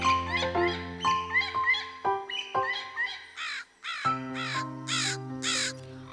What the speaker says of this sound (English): a crow was living in its nest on the top of the tree